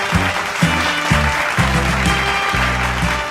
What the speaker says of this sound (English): Give a big round of applause to Bosch